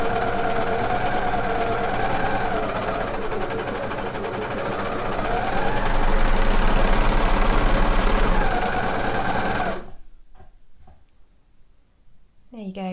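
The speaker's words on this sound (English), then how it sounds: "I'm just overlocking that seam allowance together, making sure that I've got nothing folded up under here" An overlocker stitches a dress seam allowance together in a rapid, loud, steady whir that speeds up midway, then cuts off, leaving a few faint handling sounds.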